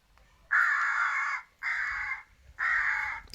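Three loud, harsh crow caws from a video game ring out in a row, each drawn out, with short pauses between them.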